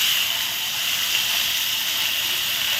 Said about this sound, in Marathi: आता या फोडणीमध्ये मी हे सोललेले वाल घालते.